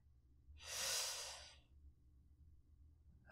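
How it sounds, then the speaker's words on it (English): A single slow, deep breath is taken close to the microphone in a quiet room. It swells and fades over about a second, then near silence follows. "Breathing."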